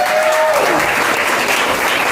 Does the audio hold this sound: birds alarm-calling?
no